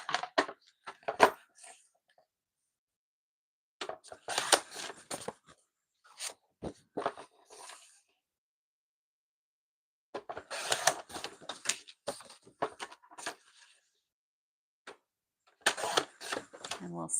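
Craft material being cut down by hand, heard as clusters of crisp, crunchy snipping bursts separated by pauses, close and fairly loud.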